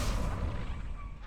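Levioso spell cast in the Hogwarts Legacy video game during dummy practice, a dense low rumbling whoosh with a booming body that fills the whole moment, loud and sustained, with no voice over it.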